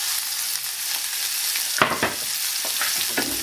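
Chopped onion and sliced green chilies hit a hot pan for bread masala, a loud close hiss of frying with a few quick spatula scrapes and knocks near the end.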